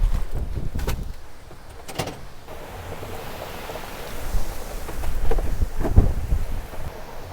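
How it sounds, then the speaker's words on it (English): A greenhouse door is shut during a big wind storm, giving a few sharp knocks and clatters over gusting, rushing wind. "I'm gonna go close up the greenhouse."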